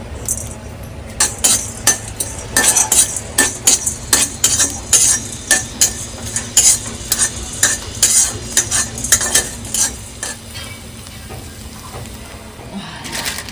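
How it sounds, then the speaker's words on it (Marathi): Whole spices for a crab curry masala rattle and scrape in a pan as they dry-roast under steady stirring, quick rhythmic clinks of a spoon against metal over a faint background hiss. "आता आपला भाजून झालेला आहे खडा मसाला थोडासा घेतला आहे मी"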